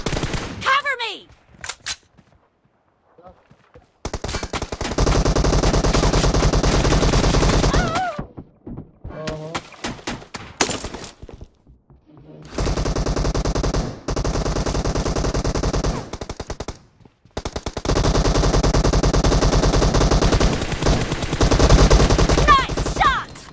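Rapid automatic gunfire bursts from a mobile multiplayer shooter game on a Poco X3 phone, loud sustained volleys separated by brief pauses, with short pops and game effects between them.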